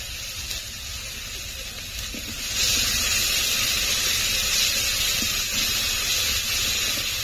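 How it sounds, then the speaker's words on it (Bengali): Whipped sour yogurt hitting hot spiced masala in a pan, starting as a faint hiss and then swelling into a loud, sustained sizzle that holds steady to the end. "এখন দিয়ে দেবো ফেটিয়ে রাখা টক দই"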